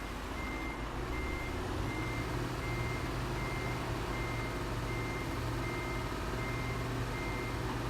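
A heavy truck in Euro Truck Simulator 2 maneuvers slowly in reverse, its steady engine rumble running beneath a regular, repeating reversing beep throughout, with no talk.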